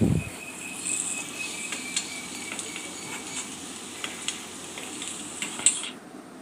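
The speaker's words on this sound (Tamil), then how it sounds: "காரப்பொடி சேர்த்ததுக்கப்புறம் ஒரு 2 நிமிஷம் போல் நல்லா வதக்கி விட்டுக்கோங்க" Chili powder sautés in a curry pan with a faint steady sizzle, punctuated by light scrapes and taps of a spoon against the pan, close and quiet.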